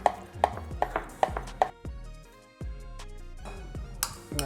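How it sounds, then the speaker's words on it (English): A knife roughly chopping hard-boiled egg whites on a cutting board: a run of sharp, evenly spaced knocks, a short pause, then a few more chops, close and clear with no talk. "Just gonna get a rough chop on all these."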